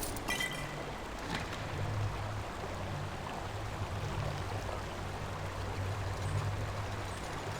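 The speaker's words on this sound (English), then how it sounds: "How strange, the river runs into this pool," In the Skyrim video game, a river stream flows into a pool with a steady, soft rushing wash of water and a faint low rumble underneath, continuous throughout.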